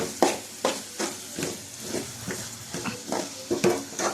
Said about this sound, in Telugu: చూడండి, బాగా కలుపుకుంటూనే ఉన్నాము.